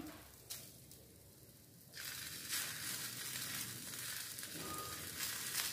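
Bread topped with egg masala fries in an oiled pan with a soft, continuous sizzle that grows brighter and louder about two seconds in and then holds steady, with no talking.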